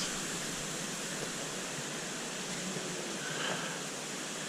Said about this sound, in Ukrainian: Водоспад шепіт.